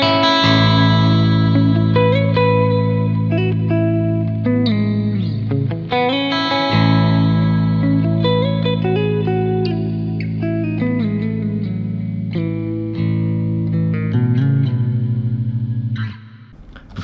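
An electric guitar tone processed with chorus, delay and shimmer reverb plays sustained chords and melodic lines, with shimmering echoing tails, loud and alone before it fades out at the end.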